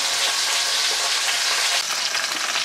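Meat and onion, a large regular onion, fry in a pan for a wild boar leg dish, giving a steady, close, bright sizzle with crackling spatters throughout and no talking.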